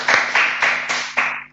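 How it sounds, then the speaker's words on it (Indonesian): Five sharp handclaps in a quick, even rhythm sound close and fairly loud in a podcast studio. They come across more like a small group or a single clapper than a large crowd. "kita beri tepuk tangan dulu dong"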